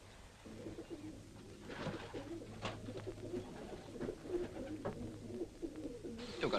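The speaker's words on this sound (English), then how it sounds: "You've got some nice birds there, Arthur." Kept pigeons cooing in a loft, with repeated low, rolling coos going on steadily throughout at a moderate distance, under faint background noise.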